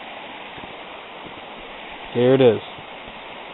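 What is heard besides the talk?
river flowing, slightly rough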